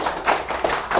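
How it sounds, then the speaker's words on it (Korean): A live lecture audience claps for a speaker discussing Ripple: a short, close burst of hand claps with a few loud, uneven swells over one second. "박수 주세요."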